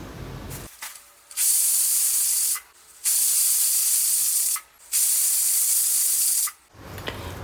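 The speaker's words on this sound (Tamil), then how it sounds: "3 விசில் வர வரைக்கும் வேக விட்டுறலாம்." A pressure cooker cooking chickpeas whistles and releases steam in three long, loud hissing bursts separated by short quieter gaps, close by with no talking.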